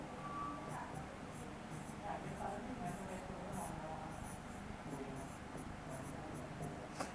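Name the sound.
writing on a board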